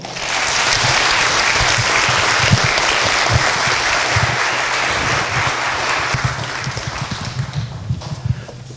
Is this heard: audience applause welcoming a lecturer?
yes